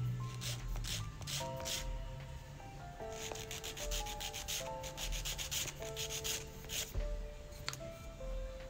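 A Soorxien electric nail file sanding a polygel nail, giving steady gritty rubbing strokes in repeated bursts over a constant motor hum and some background music tones.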